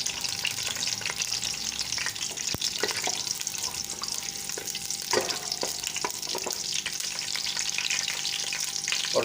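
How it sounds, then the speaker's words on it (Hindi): Whole spices sizzle in hot ghee in a pot on the flame for a cauliflower and meat curry, a loud continuous crackling fry with occasional stirring clicks, close up and without talk. "खड़े मसाले इसमें डाल देते हैं"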